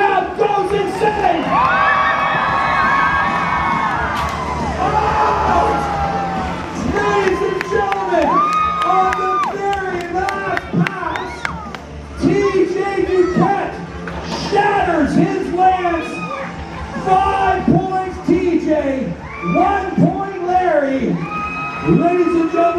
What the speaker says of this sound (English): And the crowd goes insane.